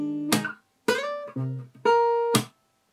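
D: Fingerstyle guitar playing the second line of a song, four distinct plucked notes ringing one after another with short gaps, close and clean with no voice.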